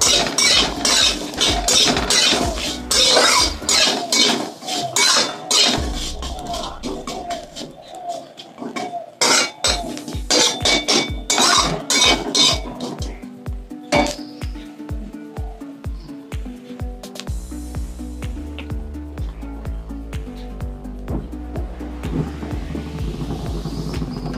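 Mustard greens mash cooking in a pan of oil, with a dense run of sharp, rapid spatula scrapes and clinks against the pan over a steady frying hiss, later slowing into spaced taps as background music plays.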